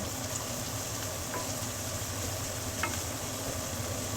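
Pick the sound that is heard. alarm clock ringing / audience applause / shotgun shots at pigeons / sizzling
sizzling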